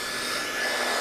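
Steady whooshing hiss of a running hair dryer held close while a puppy is groomed, constant and loud without any voices.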